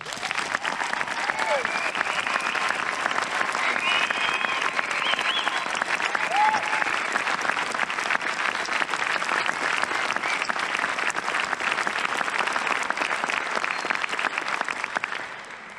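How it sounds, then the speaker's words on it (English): Prolonged applause from a graduation audience congratulating the standing class, a dense, steady roar of many hands, with occasional whoops and voices rising from the crowd. "Ladies and gentlemen, please join me in congratulating this class with a round of applause"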